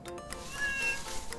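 A cat in the video game 신의 회피3 lets out a faint meow, a short high wavering cry over soft background game music.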